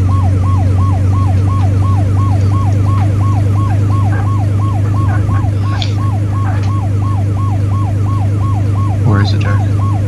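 An ambulance siren in the emergency-services game Flashing Lights wails in a fast, regular up-and-down cycle, loud and continuous over a steady engine drone, with a few brief clicks and blips.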